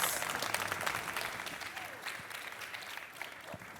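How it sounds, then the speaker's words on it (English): An audience at a startup talk event gives a warm, continuous round of applause, a dense clapping wash that starts strong and gradually softens over a few seconds, with a faint voice underneath. "Let's give them a warm round of applause."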